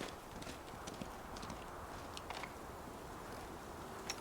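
Horse hooves clip-clop steadily in a fantasy role-playing video game, a quiet continuous trot of rhythmic hoofbeats over ambient game background.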